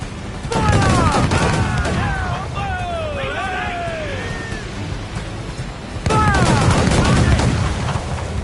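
Two loud bursts of massed gunfire, each a dense crackling volley, one early and one near the end, with shouted voices rising and falling through the din.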